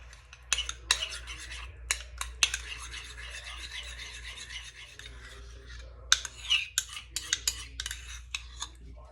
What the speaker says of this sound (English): So with the sour cream, I like to mix it with the hot sauce.